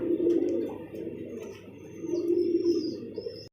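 High-flyer pigeons coo at a pigeon sale, with soft repeated coos rising and falling close by and a few faint chirps over a quiet background.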